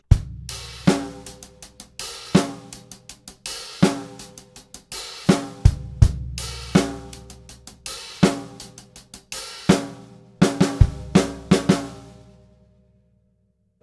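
Drum kit playing the closing ending of a Grade 4 rock and pop lesson piece: crisp kick, snare and hi-hat hits in a steady disco groove for about twelve seconds, then a final stop and ring-out, close and loud, no talking.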